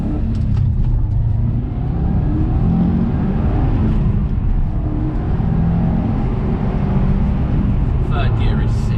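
Subaru Impreza WRX STI RB320 limited edition accelerating hard in third gear, a loud, low engine drone and road rumble filling the cabin continuously, with a person speaking over it.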